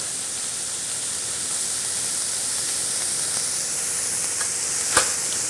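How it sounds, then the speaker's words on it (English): Steak sears in a hot pan, giving a constant bright, hissing sizzle at close range with a small tap near the end. "Maybe bump the heat up just a tiny bit so you get a nice sear on the other side"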